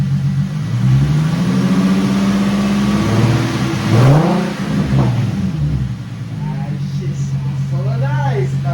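Nissan 370Z with a Z1 Motorsports cold air intake revs up and falls back a few times, the engine loud and close, with people talking over and between the revs.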